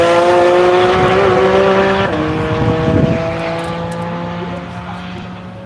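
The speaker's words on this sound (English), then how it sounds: "Team Toyota starting their second lap" Toyota race car engine droning steadily through a lap at One Lap of America, loud and close with a strong harmonic whine that shifts pitch midway and slowly fades as it pulls away.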